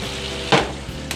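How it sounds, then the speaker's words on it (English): Apples frying in melted unsalted butter in a cast iron pan give a close, steady sizzle with one sudden louder burst of hiss midway through the short stretch, with no talking. "I got 8 tablespoons of unsalted butter, melted down in a cast iron pan."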